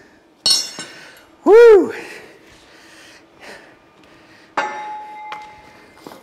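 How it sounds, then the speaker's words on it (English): Metallic clanks as an 8-pound sledgehammer strikes the rear axle of an Allis Chalmers D17 tractor, a few sharp ringing hits spread out, with a voice exclaiming between them. "Who would have thought I'd need an 8-pound sledge to do this?"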